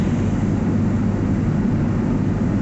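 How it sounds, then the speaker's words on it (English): A drone hovers nearby with a steady, loud, broadband whir that holds constant throughout, with no talk over it. "No matter where I go, this drone is directly in front of me."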